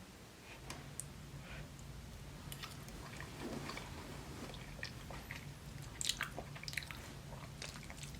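Chicken alfredo pasta being eaten up close, with quiet, soft chewing and wet biting clicks repeating irregularly at a low level and no talking.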